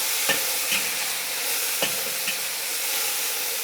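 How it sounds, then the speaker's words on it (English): Beef being stir fried in a wok for a Chinese beef and egg dish, a steady close sizzle with a few sharp scraping stirs of the spatula. "All right, so I'll stir fry it."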